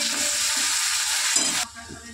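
Chopped onion hits hot oil with cumin, a loud, steady, close sizzle and frying hiss that cuts off abruptly near the end, leaving a softer crackle.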